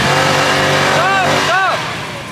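A Toyota Land Cruiser revs hard while stuck on soft beach sand, its engine loud and close, pitch climbing and dipping in two surging pushes before easing off.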